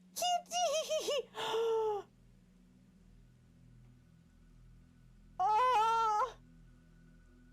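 A cat meows in the video game Moons of Madness, a few quick calls followed by a longer one, then a single drawn-out meow after a pause, loud and close over a low rumbling hum.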